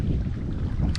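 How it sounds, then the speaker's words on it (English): Steady wind buffets the microphone with a low, rough roar throughout the brief moment. "Sorry if it's windy and you can't hear me."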